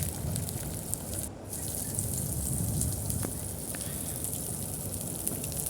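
Two eggs fry in a pan while cooking khichuri, giving a steady, even sizzle and crackle that runs throughout with no talking.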